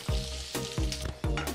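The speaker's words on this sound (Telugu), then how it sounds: "పచ్చిమిర్చిని వేయించండి." Green chillies frying in hot oil for a tomato coriander chutney, a close bright sizzle with recurring bursts of spitting as the pan is stirred, no voices.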